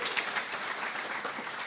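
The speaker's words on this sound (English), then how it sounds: "round of applause, absolutely" Audience applause at a live improv comedy show, a steady wash of clapping sustained at moderate level for about two seconds with no talk over it.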